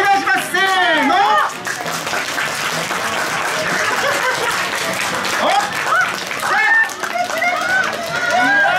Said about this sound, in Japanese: もうちょっと歓迎の拍手を